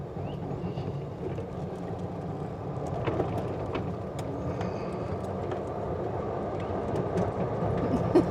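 An old golf cart with upgraded batteries rolls around a cul-de-sac, giving a steady low rumble of motor and tire noise that keeps an even level throughout, with a few faint clicks and rattles; no voices.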